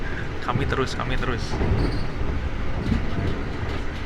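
The Argo Bromo Anggrek express train runs fast on rails, its steady rumble and clattering wheels filling the clip from start to end while someone talks over it.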